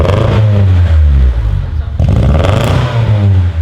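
A Honda Civic fitted with a new aftermarket exhaust revs hard and close, its engine climbing and dropping in loud repeated surges, with excited voices over and between the pulls.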